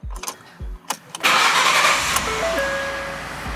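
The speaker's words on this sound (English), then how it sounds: "start the vehicle and press OK" A car engine cranks after a few faint clicks, catches and settles into a steady idle, loud and close, with no one talking.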